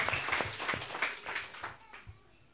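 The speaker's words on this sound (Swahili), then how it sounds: "Let's applaud the name of Jesus." A church congregation claps together in praise, a dense burst of applause with a few louder strikes that thins out toward the end, with a faint voice under it.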